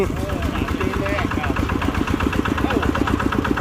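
A homemade Thai farm vehicle, an itaen grass-cutting cart built by a welder, idles with a steady chugging single-cylinder beat as it is put into gear, with a voice speaking over it.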